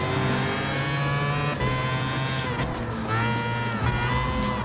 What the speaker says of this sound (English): it looks like this may be a different engine rotary sound effect on it, almost like the 787B from the previous Gran Turismo games